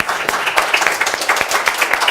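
A studio audience applauds a Somos Perú mayoral precandidate for Santa Anita on a television program, brisk, close clapping with individual claps standing out in an uneven rhythm.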